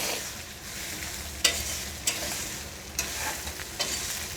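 Mixed greens muthiya dumplings stirred into a sizzling tempering of mustard seeds and sesame seeds in hot oil, steady close frying hiss punctuated by several distinct scraping stirs of a spoon in the pan, no talking.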